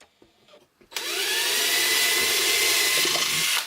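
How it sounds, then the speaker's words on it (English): After a few faint clicks, a power drill with a small bit whirs up abruptly, drilling a pilot hole at steady high speed, loud and close, for several seconds. "I'd pre-drill a hole with a small drill bit."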